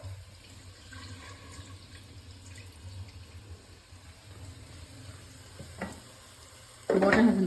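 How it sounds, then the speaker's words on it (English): Water is drained off washed rice while making Kerala-style meat biriyani. A faint kitchen hum comes first, then a sudden loud splashing pour bursts in near the end. "Now just drain the water here."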